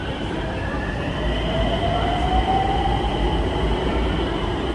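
An evening Nagpur Metro train pulls into Rahate Colony station with a steady mechanical hum and a rising electric whine gliding upward, moderately loud and sustained until it fades at the end.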